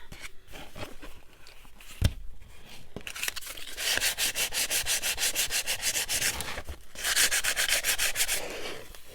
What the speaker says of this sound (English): Sandpaper helps a lot because it will let you just get the edge usually, and plus it softens the edges